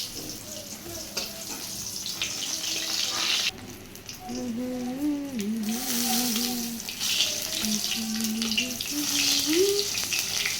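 A fish head fries in hot oil, giving a continuous close sizzling hiss with a brief drop partway through, while people talk over it in the background.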